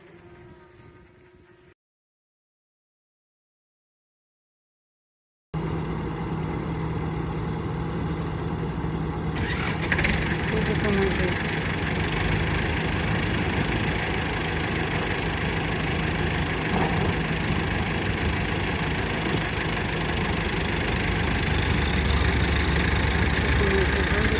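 A Massey Ferguson tractor engine runs steadily at a low rumbling idle during a wheat harvest, after a brief moment of silence, with faint voices near the start.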